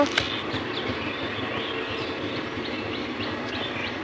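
Steady rumble and rattle of a Lalgola passenger train running on rails, continuous throughout, with faint bird chirps above it.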